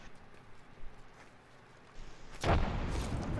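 A grenade blast in the battle-royale shooter Apex Legends bursts loudly about two-thirds through, after quieter moments with faint distant thuds, and its rumble carries on to the end.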